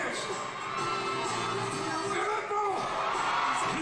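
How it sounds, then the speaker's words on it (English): A crowd at a live show, apparently a roller derby-style track event, roars and cheers continuously, with shouts and whoops rising over a dense wall of voices throughout. "The crowd's still eating it up."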